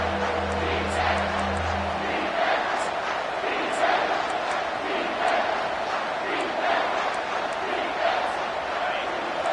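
A football stadium crowd cheers and roars in a steady, loud wash of noise that runs throughout, with brief deep tones at the start.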